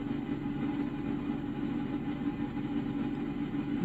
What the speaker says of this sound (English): I hear train